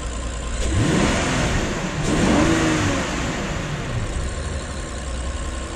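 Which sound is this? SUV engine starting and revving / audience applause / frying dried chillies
SUV engine starting and revving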